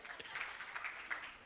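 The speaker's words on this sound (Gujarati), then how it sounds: "જોરદાર તાળી થઈ જાય" Faint applause from a crowd at a sangeet celebration, brief scattered clapping with a voice over it.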